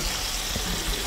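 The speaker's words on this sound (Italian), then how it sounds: "Schizza l'olio." Hot oil spattering in a frying pan on a home kitchen stove in Calabria, a steady close hiss of crackling spatter lasting about a second.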